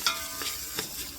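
Turmeric is stirred into hot frying oil in a pan, giving a soft, steady sizzle broken by a few quiet scrapes of the spoon.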